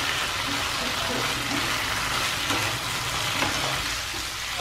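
Shrimp stir-fried together with pork in a pan, a dense unbroken sizzle with stirring and scraping, loud and close throughout, no clear talk.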